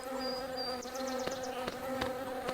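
Bees buzz in the Meena 2 video game, a steady insect drone backed by a soft game soundtrack with a few light chime notes.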